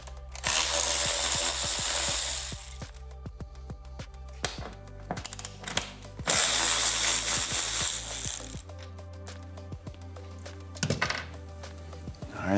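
A power ratchet drives out four millimeter bolts while installing handlebars on a 2018-2023 Indian Roadmaster motorcycle: two loud bursts of whirring tool noise, each followed by quieter clicks and ticks, heard close with no talk.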